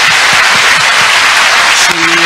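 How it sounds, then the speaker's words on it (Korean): A church congregation at a healing service breaks into loud, sustained applause, a dense wash of clapping that fills the hall, with a voice or tone entering near the end. "주님께 우리 박수를 한번"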